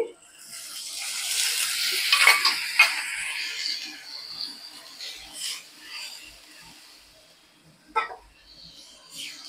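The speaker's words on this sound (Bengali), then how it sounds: "এখন আমি দইটা দিয়ে দিচ্ছি, দইটা মশলার সাথে কষিয়ে নিব" Yogurt hits hot spiced oil in a pan and flares into a loud, hissing sizzle that gradually fades into softer bubbling, with occasional clinks of a utensil against the pan.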